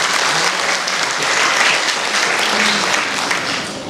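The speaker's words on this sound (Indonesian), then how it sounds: "Tepuk tangan untuk Ibu Kepala." Sustained applause from a school audience greeting the headmistress at a 50th anniversary celebration, a dense steady clapping crowd that stays loud throughout and eases slightly at the end.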